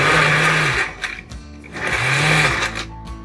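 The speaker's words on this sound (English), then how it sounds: "So we have started blending the smoothie." A blender whirs through a mint smoothie with ice, two loud motor runs with rising and falling pitch separated by a short pause, with grinding chatter from the ice.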